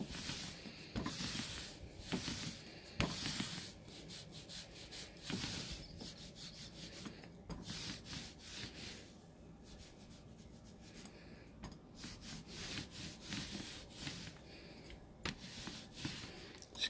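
A roller spreads a thin layer of Goppity-Goop coating across a surface, giving repeated close, rough rubbing and rasping strokes in an uneven rhythm, quiet and with no voices.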